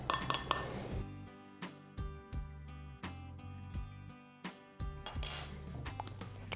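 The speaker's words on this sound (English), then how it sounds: "sift this through there because the cocoa is a little chunky in some spots" Chunky cocoa powder being sifted through a metal sieve for double chocolate chip cookies, heard as a run of sharp metallic clinks and taps, close and clear, with no talk.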